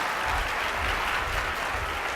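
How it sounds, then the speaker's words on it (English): Audience applause after a product demonstration on stage, steady dense clapping from a crowd at moderate loudness, sustained throughout without talk. "let's give Bob Gridelli one more round of applause"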